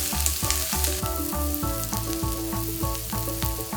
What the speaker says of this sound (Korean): 달군 팬에 기름을 두르고 양파를 넣어 투명해질 때까지 볶은 뒤